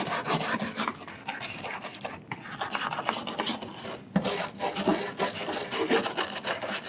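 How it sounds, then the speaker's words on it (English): A stiff grout-cleaning brush scrubs hard while fixing a leak in a van, giving close, raspy back-and-forth bristle strokes with a couple of brief pauses between strokes and no talk. "This scrubbing technique that we're seeing."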